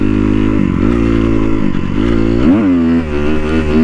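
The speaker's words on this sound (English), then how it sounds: "See a little, ooh, a little wheelie action for show." A sportbike engine revs hard and loud during a wheelie, its pitch climbing and dipping in steady surges, close and continuous with no voices.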